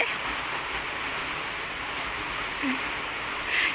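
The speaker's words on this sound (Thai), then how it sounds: "ฝนตกมาอีกแล้ว" Steady rain pours down outdoors, a dense, even hiss of drops that holds at a constant level throughout with no break.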